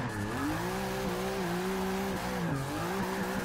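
A rear-wheel-drive Subaru STI build in Forza Motorsport 6 sings a steady engine note with shifting pitch, while tires squeal continuously through a corner and the car holds a loud, sustained drive.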